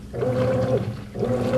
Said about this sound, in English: During this portion of the cycle, you will hear sounds like this.